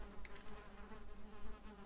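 Bees buzz faintly and steadily in the Valheim video game, a soft continuous insect drone with a brief higher blip near the start.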